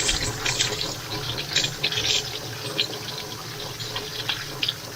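Water jet striking the cups of a homemade Pelton wheel built from recycled junk, a continuous rushing, splashing spray with uneven bursts and a low steady rumble underneath, close by.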